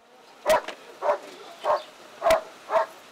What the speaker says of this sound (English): He was later captured with the help of a police dog.